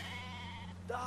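A sheep bleats once, brief and fairly soft, in the video game Brothers: A Tale of Two Sons, over a steady humming game background.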